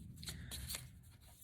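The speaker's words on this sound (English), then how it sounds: "Shuffle a bit more carefully." Tarot cards being shuffled by hand, a quick soft riffling with a few crisp slaps, close and quiet, with no talking over it.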